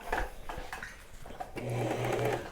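Brother Pacesetter sewing machine, which has no speed control, starting with a few short needle stitches, then running in a steady close whirring burst, with handling noises in between.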